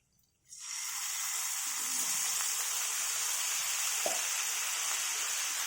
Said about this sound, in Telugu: కొంచెం వాటర్ వేసుకున్నాను దీంట్లో.